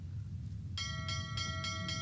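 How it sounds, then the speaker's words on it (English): A bell on a cart in a video game rings five times in quick, even succession, bright and metallic over a low rumbling background. "Yes, ring the bell."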